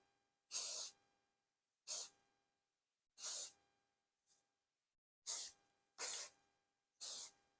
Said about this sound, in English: Use that aerosol spray.